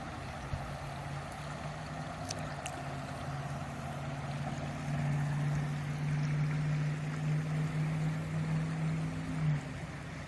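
The Bitterroot River flows steadily near a riverside walking trail, a broad continuous wash of water with a low rushing rumble that swells slightly louder midway, with no voices.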